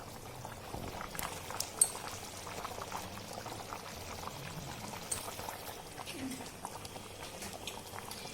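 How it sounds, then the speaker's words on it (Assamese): A pot of pigeon meat curry simmers on a gas stove, giving off soft, continuous bubbling with occasional small pops and clicks, quiet and close. "আপোনালোকে দেখিছে যে আমাৰ মাংসটো অলৰেডি হৈ গৈছে, উতলি আহিছে।"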